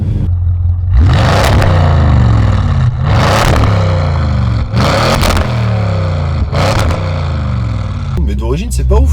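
A tuned 700 hp biturbo Audi RS6 engine revs hard in four loud, sustained bursts, each swelling and falling back to a rumbling idle, with a brief crackle at the end.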